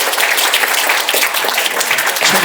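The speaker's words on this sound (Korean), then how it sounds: "열정을 높이 평가하면서 박수 보내드리겠습니다" A crowd at a patriotic song contest applauds a singer, producing a thick, continuous wash of clapping at steady loudness for a couple of seconds with no talking.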